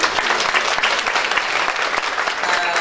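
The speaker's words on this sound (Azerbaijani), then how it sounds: "Hər birinizdən xahiş edirəm ki, Arif müəllimi ürəkdən alqışlayaq" An audience gives warm, dense applause to the painter Arif Huseynov at the opening of his solo exhibition, clapping steadily and evenly throughout without pause.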